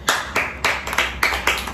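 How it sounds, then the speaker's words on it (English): About six separate hand claps in a loose rhythm, close and fairly crisp, from a small family group at a home gathering in Ghana, with no voices over them. "Clap yourself."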